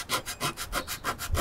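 Rhythmic back-and-forth sanding strokes rasp against hardened wood filler, about seven even passes, close and steady with no voices.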